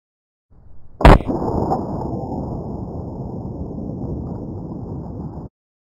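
A single 300 Blackout rifle shot fired at 5 yards, one sharp, loud crack followed by a long booming echo that slowly fades over several seconds.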